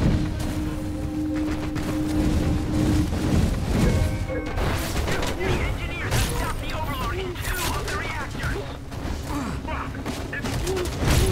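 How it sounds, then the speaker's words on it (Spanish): Constant gunfire and heavy explosions in the action game Raiders of the Broken Planet, dense booms and crashes layered over each other, with a voice talking underneath. "Madre mía, cuántas explosiones."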